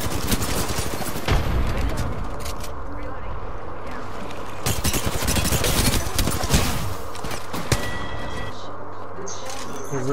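Incoming gunfire in Apex Legends, with bursts of shots cracking through a busy game mix across the clip, mixed with other effects and steady background sound.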